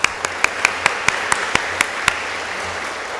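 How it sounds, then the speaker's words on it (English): A school sports awards ceremony group claps in unison, about ten sharp, evenly spaced claps close by that stop after two seconds and leave a quiet room. "One last clap."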